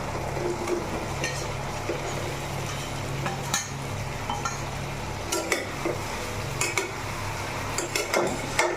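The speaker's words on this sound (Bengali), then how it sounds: "মশলাটা দিয়ে ভেজে নেওয়া আলুগুলো একসাথে দিয়ে দিচ্ছি" Fried potatoes being stirred into masala in a pan for a yogurt-based aloo dum, with steady low sizzling and scattered clinks of a spoon against the pan, no voices.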